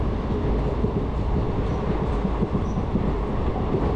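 The Uzhavan Express travelling from Chennai toward Kumbakonam and Thanjavur, heard from on board as a loud, steady rumble with rhythmic clickety-clack from the wheels and no voices.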